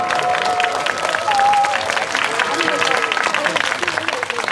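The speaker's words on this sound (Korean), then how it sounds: "이효영 소프라노님의 멋진 무대 큰 박수로 환영해 주시길 바랍니다" Audience applause welcoming a soprano at an outdoor full-moon concert in a park in Yanggu, South Korea, steady clapping with crowd murmur and some voices mixed in throughout.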